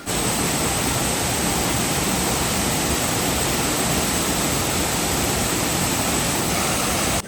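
Heavy rushing water pours steadily down at a slippery, moss-covered stream spot, a dense continuous roar that stays loud and unbroken throughout, with no voices over it.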